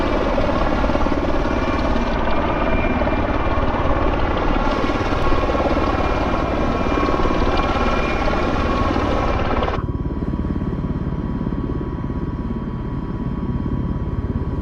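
Rotor and engine drone of a V-22 Osprey in a flight simulator game, a loud continuous rumbling hum with layered tonal whine that stays steady, then shifts to a duller, thinner tone partway through.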